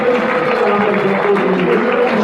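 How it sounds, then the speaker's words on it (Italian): A football crowd applauds a young substituted player leaving the pitch in the second half of Torres vs Sorso, a dense, steady wash of clapping throughout. "Applausi per il giovanissimo rossoblu, autore di una bella prova"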